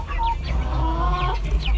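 A hen clucks on a small poultry farm just after laying an egg, a few close, short clucks over a steady low rumble.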